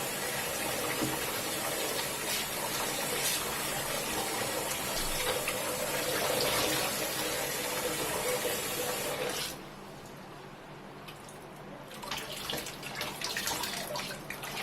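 Water runs steadily for a rinse on a hot summer day in Chennai, a continuous broad rush that drops off briefly near the end before resuming.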